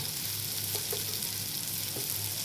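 Egyptian rice fries in fat in a pot, giving a continuous close sizzle with a few soft scraping stirs scattered through it, no voices.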